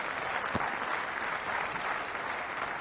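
Wimbledon 2021 Centre Court crowd applauding a forehand winner down the line, broad sustained clapping from a large stadium audience, even and unbroken with no voices over it.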